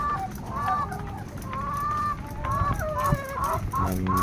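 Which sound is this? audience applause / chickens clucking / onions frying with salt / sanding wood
chickens clucking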